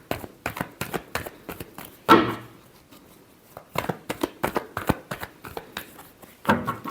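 Tarot cards shuffled by hand in quick riffling bursts with brief pauses between, close and crisp, a longer riffle partway through, no talk.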